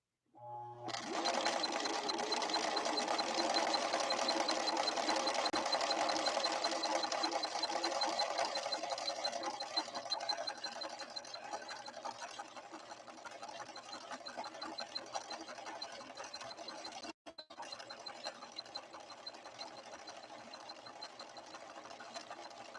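A ruby red Husqvarna Viking 6460 sewing machine, freshly repaired, runs a final stitch with a fast, steady mechanical whir, loud and close at first, then slightly softer, with one brief break near the end and no voices.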